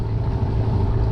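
A new Sharmax outboard boat motor runs during break-in, a steady loud low drone with constant rumble and no pauses.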